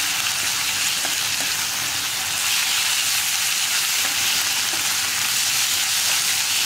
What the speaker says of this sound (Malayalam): ഇനി ഉള്ളിയും കൂടി ഈ മീനിൻ്റെ കൂടെ ഒന്ന് മിക്സ് ചെയ്യാം